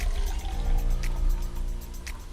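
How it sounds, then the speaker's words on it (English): Frothy Tipsy Ducks in Love cocktail strained from a shaker tin into a glass at EPCOT's China Pavilion: a steady close pour and trickle of liquid over a low background rumble, with no talk. "I'm going to strain the drink from the tin into the glass"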